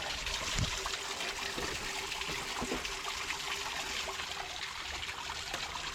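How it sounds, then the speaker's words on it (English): Water trickling and bubbling in a small stream through muddy woods in New Paris, a steady close babbling flow with a few soft knocks, no talk. "You see this water flowing up ahead"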